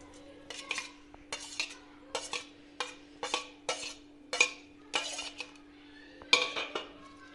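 Cooled filling is stirred into batter with a spoon, making about a dozen rhythmic scraping and clinking strokes against a bowl, close and clear, with a faint steady hum underneath and no talk.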